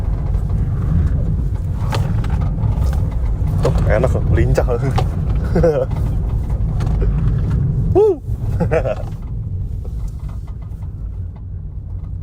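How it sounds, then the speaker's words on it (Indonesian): A Toyota Agya GR facelift from 2023 with a three-cylinder engine hums along steadily through a zigzag obstacle handling test. The engine stays low and constant beneath someone talking throughout. "Dan obstacle yang terakhir adalah zigzag. Nah, kita akan tes bagaimana handling dari mobil ini."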